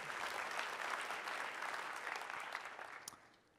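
Audience at a SXSW 2022 talk applauds steadily, a dense wash of clapping that holds for a few seconds at moderate distance before tapering off.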